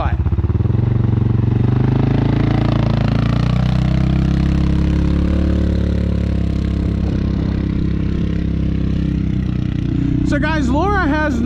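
An ATV engine runs steadily up close, a continuous low rumble with a mechanical clatter that holds through the whole stretch. A brief warbling whine joins in near the end.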